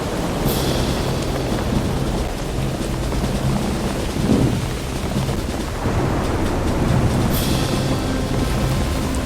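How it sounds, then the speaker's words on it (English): Steady rain with low rumbles of thunder, a continuous broadband wash that stays loud throughout with a couple of brief brighter swells. "Apparently it's raining."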